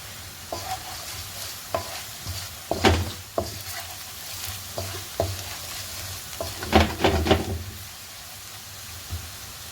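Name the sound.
onion frying with powdered spices in a pan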